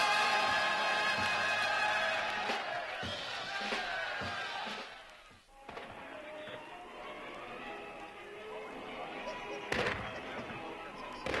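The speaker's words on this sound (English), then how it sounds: "At midnight, fireworks boom above Dolphin Lake, with colorful dancing waters below." Midnight fireworks over Dolphin Lake at Expo 67 boom and crackle in a steady wash of bursts, with crowd noise and a narrating voice running over them.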